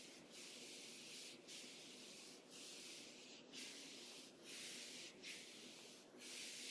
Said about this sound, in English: Let's bring our palms to our legs and just rub a little bit.